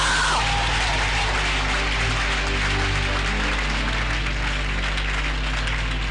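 A congregation at an all-night prophetic church service claps steadily, the sound loud and continuous over a low hum and some background murmur.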